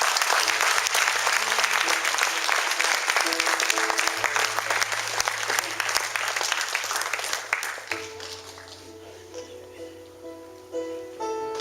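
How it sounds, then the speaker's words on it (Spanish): A church congregation claps together at length, the applause strong at first and gradually thinning, while sustained keyboard or organ chords play underneath and carry on as the clapping fades. "Dale un aplauso a Cristo Jesús"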